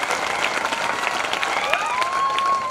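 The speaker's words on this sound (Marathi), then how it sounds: "म्हणून त्यांच्यासाठी एकदा जोरदार टाळ्या" An audience at a student career-guidance talk applauds the teachers with steady, dense clapping that runs the full length, fairly close, with faint voices mixed in.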